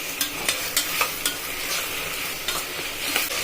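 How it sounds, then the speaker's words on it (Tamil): Green chillies and mint being sautéed in a pan, a bright steady sizzle with a quick regular run of scraping stirs, close up and alone without speech. "சேர்த்து நல்லா வதக்கிடுவோம்"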